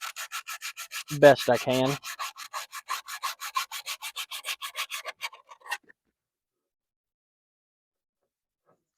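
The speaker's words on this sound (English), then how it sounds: "I'm gonna get a little piece of sandpaper and just clean off that magnet" Sandpaper scrubs rust off the magnet of a heavily rusted lawnmower in a steady run of quick, close rubbing strokes that stop partway through, with a short spoken phrase early on.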